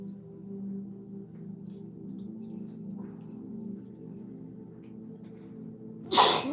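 A single sharp sneeze bursts out near the end after several seconds of steady low droning hum, loud and close.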